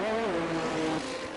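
Racing cars in a Formula 1 video game race on the Canada circuit roar past with a steady high-pitched engine whine that drops in pitch as they go by, loud and close, with no talk.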